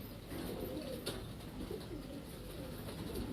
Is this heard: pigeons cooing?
yes